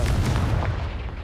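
A Confringo explosive spell blast in the Hogwarts Legacy video game: a heavy, booming burst with a deep rumbling body that stays loud before fading slightly.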